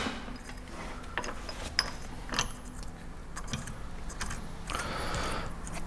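Central hub bolt being screwed in by hand on a GAZelle Next truck, strength class 10.9, during a reinforced 12-tonne hub replacement: scattered metallic clinks, ratcheting and jangling clicks over a low workshop hum, close by.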